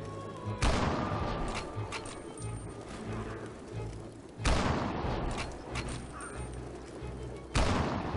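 Three loud, sharp gunshots spaced a few seconds apart in the zombie shooter game Land of the Dead, each with a sudden attack and long decaying echo over a low droning background.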